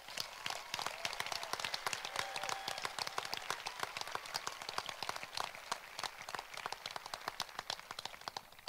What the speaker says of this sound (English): will you please help me in giving them a hearty round of applause?